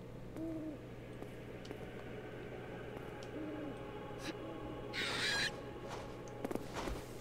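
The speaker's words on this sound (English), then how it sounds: "there's like how many birds in here then? How many owls?" Owls hoot in a dark video game church, soft paired hoots repeating a few times over a low steady hum, with a brief hiss and faint clicks in between.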